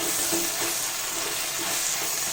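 Chopped tomatoes hit a hot pan of sizzling onion, ginger and green chili, giving a loud, steady, close frying hiss with soft stirring scrapes, no talking.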